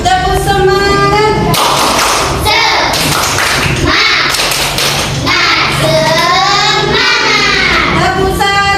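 A classroom of pupils claps in a quick rhythmic 'tepuk semangat' pattern, sharp bursts of clapping alternating with loud group chanting and children's voices throughout.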